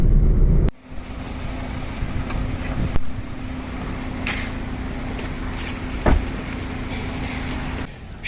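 Continuous low road rumble and wind buffeting from a vehicle in traffic on the way to a cricket ground, with a steady hum and a few sharp knocks, no talk.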